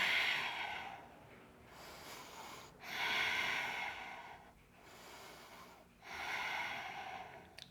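Slow, deep breathing held during a yoga pigeon pose: three long airy inhales alternating with quieter exhales in an even rhythm, close and soft with no talking.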